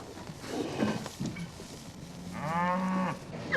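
A heifer lets out a single long, low moo, preceded by faint rustling and animal shuffling nearby.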